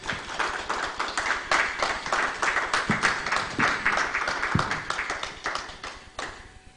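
Audience applause at the launch of the Africa Protected Areas Congress, a dense steady round of many hands clapping that carries on for the whole stretch at moderate volume, with no talk over it.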